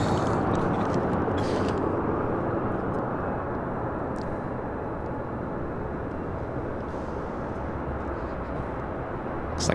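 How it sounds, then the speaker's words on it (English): A Japan Airlines Boeing 787 Dreamliner passes over LAX, producing a loud, broad, continuous engine roar that stays steady and fades only slightly across the clip, with no talk. "Looks like that Japan Airlines Dreamliner heading over to the southeast side"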